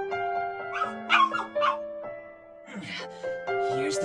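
A dog in the game Mr. Love: Queen's Choice gives short yips and soft whimpers over gentle tonal background music, with a few separate bursts spread across the clip.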